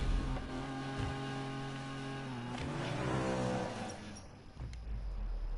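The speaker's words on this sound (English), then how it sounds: "I need to hear the engine revs." A street-racing car in Need for Speed 2015 drones and revs continuously, its engine note climbing and sweeping upward midway before settling, fairly close and without talk.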